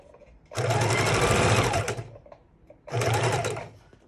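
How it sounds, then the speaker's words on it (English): A sewing machine runs a straight stitch through junk journal pages in two loud, close bursts of fast whirring, the first about one and a half seconds long, then a pause before a shorter second run. "We're just going to do another straight stitch and seal that down."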